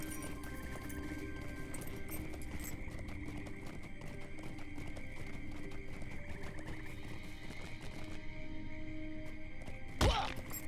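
Horse hooves clip-clop steadily with occasional whinnies in The Lord of the Rings Online, under a continuous layer of game ambience, ending in a sharp thud near the close.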